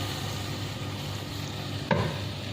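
Onion and green chilli paste hits hot oil in a pan with a sudden sizzle and stir over a steady low frying hiss.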